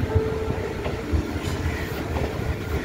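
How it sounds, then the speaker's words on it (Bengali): A passenger train on the Kolkata circular rail line runs along the tracks, with a steady close rumble and rhythmic clickety-clack of wheels on the rails, no talk. "এরপর বড় বাজার থেকে আবার চলেছি ট্রেনে করে"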